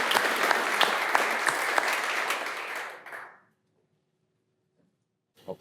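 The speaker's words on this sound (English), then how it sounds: "Can we get one last round of applause?" Demo day audience gives a round of applause, dense clapping that holds steady for about three seconds, then fades out into near silence before a brief faint noise at the end.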